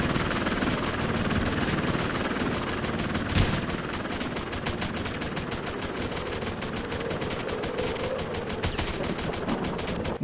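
Sustained, loud automatic gunfire from the Bullet Witch video game, a dense rattling stream of rapid shots running without pause, with one heavier burst near the middle.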